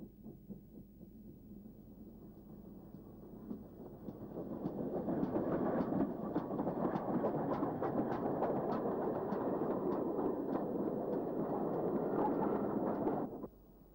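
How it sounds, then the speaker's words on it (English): A GWR 6100 class 2-6-2 tank steam locomotive running, a low rumble that swells into a loud steady roar of rapid chuffing, then cuts off abruptly at the end. "This is a 262 tank of the 6100 class."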